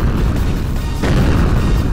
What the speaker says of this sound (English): That means there will be an explosion there.